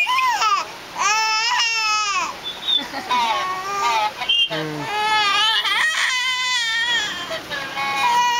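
A baby shouts and cries in repeated loud, close wails with short pauses between them, and an adult voice cuts in briefly partway through.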